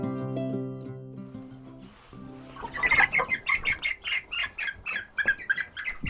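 Meat chickens and Ameraucana chickens squawk, cluck and flap in a rapid, busy burst close by, following a stretch of steady low tonal sound.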